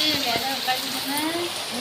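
Heavy rain pours down steadily near a home in Tamil Nadu on the evening of Karthigai Deepam, a dense broadband hiss filling the whole moment, with faint voices or tonal sounds drifting underneath.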